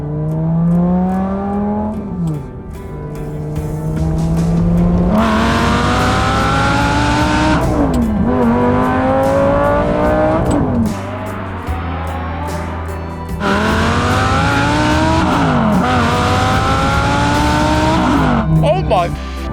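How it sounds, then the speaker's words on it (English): A Lamborghini Gallardo driven hard, its engine revving loudly through repeated rising gear pulls with tire noise, heard from nearby with voices over it. "it was time to drive my Lamborghini Gallardo for the first time"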